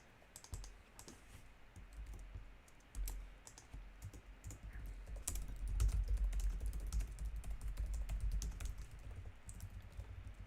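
Rapid bursts of typing on a computer keyboard, close and clear, with clustered key clicks and brief pauses between runs, growing busier midway; no one speaks.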